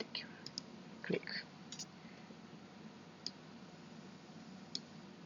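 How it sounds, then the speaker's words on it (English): Computer mouse clicks while drafting a base map in AutoCAD, a few sharp isolated clicks spaced over several seconds against a quiet room hiss, with a small cluster early on and no speech. "I will pick Shift and right click to pick the perpendicular."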